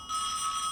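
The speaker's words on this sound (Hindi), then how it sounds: "तुम्हारा ही फोन है, उठाओ।" A phone rings steadily in a Hindi-dubbed South Indian action film scene, a clear electronic ringtone sounding alone for under a second with no talk over it.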